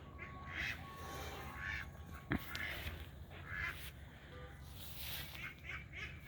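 Ducks give scattered, faint, distant quacks over quiet outdoor background noise, with one sharp click midway through.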